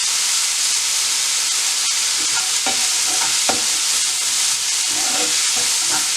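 Onions sautéing in a pan over low heat make a steady, close hiss and sizzle, broken now and then by soft scraping stir strokes.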